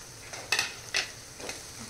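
Spices frying with onion and tomato in a pan for a spicy chana dal and onion dish, a quiet sizzle with two sharper stirring scrapes and a softer one, close but faint.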